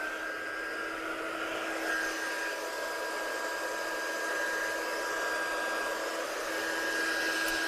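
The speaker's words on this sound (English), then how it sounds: "So get your gun as hot as possible" A heat embossing gun runs with a steady, continuous blowing whir and a faint high tone, close and even in loudness throughout with no talk.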